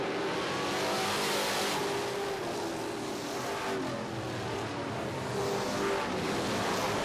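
Limited late model race cars roar around Barrie Speedway on opening night, a continuous loud engine drone from several cars at mid distance, rising and falling slightly as the pack circulates, with no talk.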